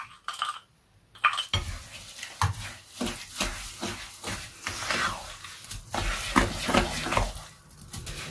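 A spoon or spatula stirs fruit acid body scrub ingredients in a bowl, scraping and clinking against the sides in a busy, irregular rhythm, close and moderately loud, with no voices.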